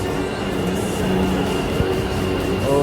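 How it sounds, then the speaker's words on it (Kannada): Bangalore Yellow Line metro train arriving, a steady rumbling rail roar with faint tonal hums and a brief clunk, heard close and continuous throughout. "ಎಲ್ಲೋ ಲೈನ್ ಮೆಟ್ರೋ ಬಂತು ನೋಡಿರಿ."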